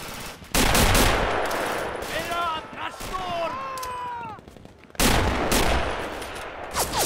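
Machine gun and sniper fire in Red Orchestra, with loud bursts of shots at the start and again near the end and a few whistling sounds in between, over a noisy battle background.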